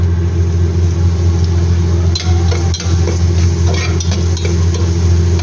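Garlic sautéing in hot oil for an Arabic-style biryani, with ginger about to follow: a steady, close sizzle over a constant low hum, with a few brief stirring scrapes and clicks.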